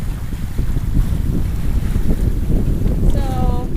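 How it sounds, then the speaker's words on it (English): Strong wind roars steadily across the microphone aboard a sailboat at sea, mixed with rushing water and waves, with a brief whistling tone near the end. "Here comes the wind!"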